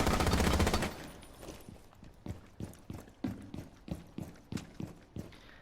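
Gunfire in Rainbow Six Siege: after an opening dense burst, a steady series of evenly spaced single shots rings out, punchy and moderately loud, with no talk.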